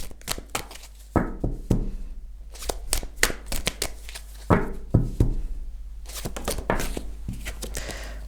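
Tarot cards are shuffled and drawn close up in a run of crisp riffles, flicks and soft slaps against a table, continuing throughout with no talking.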